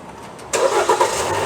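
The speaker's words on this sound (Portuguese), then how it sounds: "O motor funcionando, ó." A Jeep Compass engine cranks and fires after a quiet moment, then settles into a steady idle, close by and fairly loud, with no talking over it.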